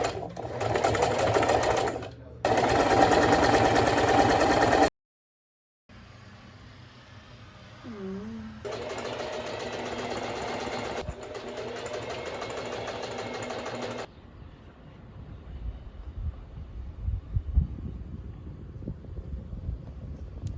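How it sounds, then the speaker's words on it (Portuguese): A sewing machine runs in loud bursts of steady stitching on a self-designed garment, with stops between runs, one full silence, and a quieter, rougher stretch near the end where it keeps going after the bobbin thread has run out. "Acabou a linha da bobina e eu continuei costurando."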